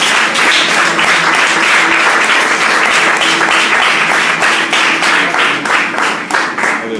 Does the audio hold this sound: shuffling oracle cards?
no